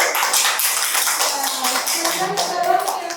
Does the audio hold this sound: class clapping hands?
yes